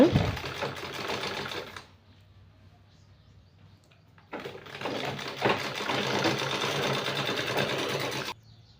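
Sewing machine stitching a blouse, running in two close bursts of steady rapid whirring separated by a short pause, loud and alone.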